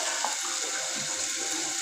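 Water pours into a cooking pot in a steady, soft splashing stream, continuous and fairly quiet throughout, with no talking.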